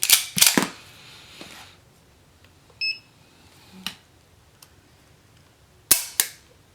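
CZ Shadow 2 Optics Ready pistol trigger snapping as it breaks on a trigger pull gauge: a couple of sharp close clicks at the start, a faint beep, scattered light taps, then another pair of crisp clicks near the end.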